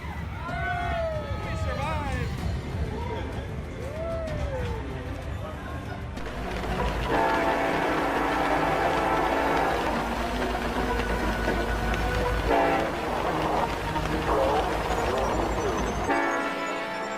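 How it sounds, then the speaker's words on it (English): Trains pass along a narrow street lined with restaurants and cafes, a loud rumbling roll with a horn and squealing wheels, while a voice narrates over it. "all of which stop working while the trains pass."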